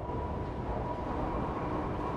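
A train of underground ore shuttle cars rolls from the loading station toward a rotary car dumper in an iron ore mine, giving a continuous low rumbling drone at steady loudness with no talk.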